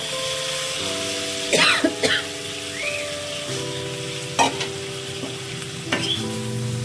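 Fried vegetables are stirred into sizzling masala for a bhetki fish and cauliflower curry, a steady sizzle under repeated spatula scrapes, with a background hum and a few cough-like bursts.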